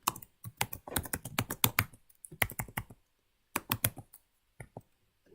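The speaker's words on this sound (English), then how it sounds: "So let's type it out." Typing on a computer keyboard, close and clear, in quick bursts of clicking keystrokes separated by short pauses, with no other sound.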